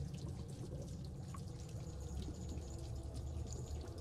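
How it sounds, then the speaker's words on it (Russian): Water pours continuously from a bottomless mug in The Franz Kafka Videogame, a faint, steady splashing trickle with a few scattered drips, no voices. "Она бездонная, в ней дофига воды, она все тут залила."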